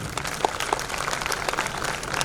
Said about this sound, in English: Please clap for your children.